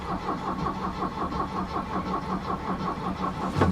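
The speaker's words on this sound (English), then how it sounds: "So this is how you're gonna turn on the engine." A 1973 Mercedes-Benz 220 Diesel engine cranks and settles into a steady, rhythmic diesel clatter, close and continuous, with a slight rise at the end.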